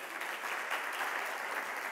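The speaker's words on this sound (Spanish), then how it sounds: "Aplaudiments, sisplau." An audience at a Metadecidim conference session in Barcelona applauds a speaker, producing a dense, steady wash of many hands clapping at even loudness for the full two seconds, with no voices over it.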